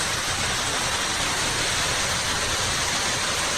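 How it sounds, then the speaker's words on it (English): Water trickles and splashes steadily off moss at a small forest waterfall on the North Fork Skokomish River trail, a close, continuous broadband rush with no voices. "See the moss, the water coming off the moss?"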